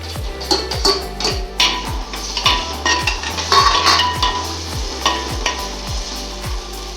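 Tomatoes hit a hot clay pot of chicken fry with a loud sizzle, overlaid by repeated rhythmic metal clinks and scrapes of a spoon against the pot, no talking.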